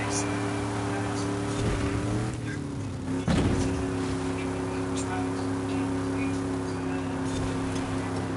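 A square body truck engine in Forza Horizon 5 holds a steady, near drone that dips briefly, then revs back up and settles into a constant hum, with someone talking over it.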